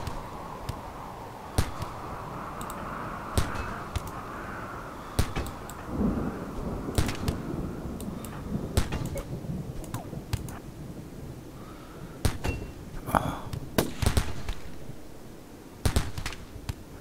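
Gunfire in the video game RimWorld crackles in scattered sharp bursts and single shots across a busy background of game sounds.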